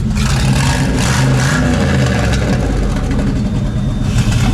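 An LS-engined mega truck with a boost setup runs loud and close, a deep rumbling engine that rises in revs and sags under load.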